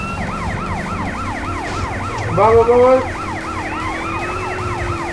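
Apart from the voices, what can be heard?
police car siren in the video game GTA San Andreas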